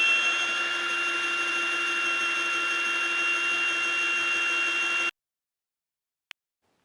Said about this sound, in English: Hypertough 12-volt brushless drill with the metal chuck.